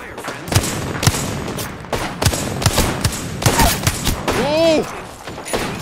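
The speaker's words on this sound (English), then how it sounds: "I am taking fire, friends." Apex Legends gunfire cracks out in sharp separate shots at uneven intervals, loud and close, with a descending electronic chirping effect near the end.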